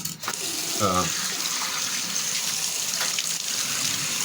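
Water pours through a sieve with a continuous splashing, gushing hiss, loud and close; a brief voiced sound breaks in early on.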